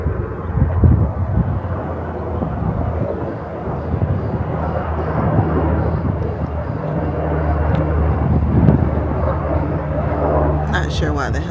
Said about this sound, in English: Not sure why the helicopter is flying over because that's not a part of the air show